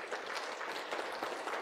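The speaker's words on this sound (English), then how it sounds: "Let's give the Lord a hand clap this morning." A church congregation claps, with dense, even applause from many hands filling a large room throughout.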